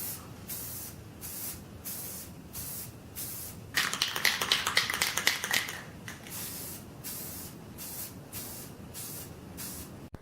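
Spray paint hisses onto a Pinewood Derby car in short repeated bursts, then a longer stretch of rapid sputtering sprays midway, close and fairly loud with no talking.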